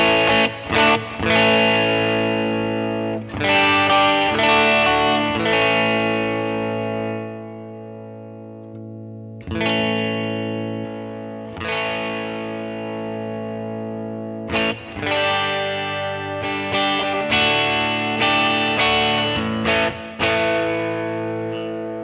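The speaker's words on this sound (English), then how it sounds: "that's a good low gain overdrive right there" An electric guitar runs through a Headrush pedalboard set to a low-gain, Rat-style overdrive, with chords struck one after another and left to ring out in a warm, gritty sustain, played alone.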